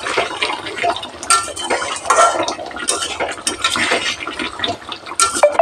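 A pot of Bengali potato curry, niramish aloor dum, being stirred with a metal utensil on a gas stove, with repeated scraping and clinking strokes close by, loud and irregular.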